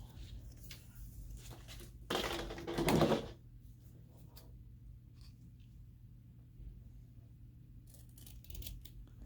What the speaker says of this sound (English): I take some ribbon and I cut it out to about 5 1/4 inches, 2 of those.